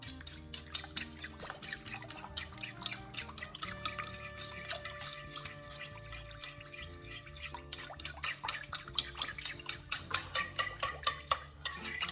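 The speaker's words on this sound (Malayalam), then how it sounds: "ഒരു 2 ടീസ്പൂൺ പഞ്ചസാര, പിന്നെ ഒരു മുട്ട. അങ്ങോട്ടൊന്ന് മിക്സ് ചെയ്യാം." Sugar and an egg being mixed in a bowl: a steady run of rhythmic clinks and scrapes, growing faster and louder toward the end, over faint tonal background sound.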